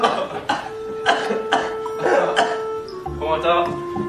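A person coughs several times in short bursts amid a noisy group scene, with voices talking and background sounds around it.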